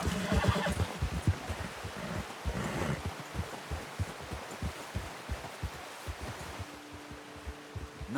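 A horse is ridden at a steady gait in Red Dead Redemption 2, with rhythmic hoofbeats up close and a brief whinny or snort near the start, and no talking.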